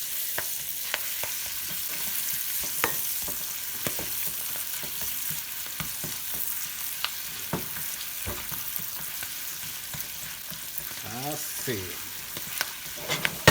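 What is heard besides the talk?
spinach frying with garlic in a pan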